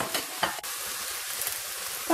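Vermicelli being stir-fried with minced pork in a wok: a steady close sizzle with a few scraping stir strokes, loud and continuous with no talk.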